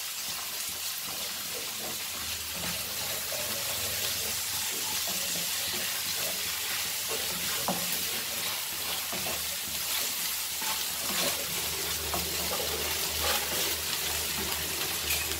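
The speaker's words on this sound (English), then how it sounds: "The onions are fried." Onions sizzle steadily in a pan with ginger garlic paste, a continuous broadband frying hiss that holds close and even throughout with no talk.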